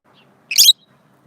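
A pet bird gives a single short, bright chirp, close and clear against near silence.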